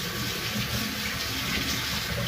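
Tap water runs steadily into a sink as a dropped pepper is rinsed, a loud continuous close splashing rush with no talking.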